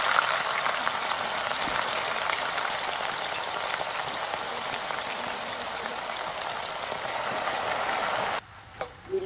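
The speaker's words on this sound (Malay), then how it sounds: "Seterusnya kita goreng kentang." Potato pieces frying in hot oil for sambal, a dense steady crackling sizzle like heavy rain, continuous and close, briefly dropping away near the end.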